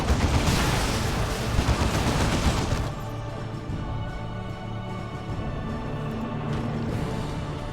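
Dense gunfire barrage from Dawn of War 2 tabletop-style battle, a loud, continuous roar of shots for about three seconds that then drops to a quieter, steady rumble of battle noise and scattered fire.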